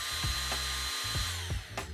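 A first-generation Nitecore Blowerbaby electric blower runs with a steady, high motor whine, close and continuous, under a series of rhythmic low thumps.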